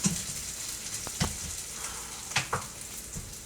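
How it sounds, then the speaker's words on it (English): Onions and garlic sautéing in a pan give a steady soft sizzle, broken by a few sharp clicks and taps of stirring, close by with no talk. "our magic today is sauteed onions and garlic"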